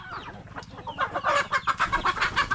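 A chicken clucks close by in a yard, first in a few soft scattered notes, then in a loud rhythmic run of repeated clucks with no voices.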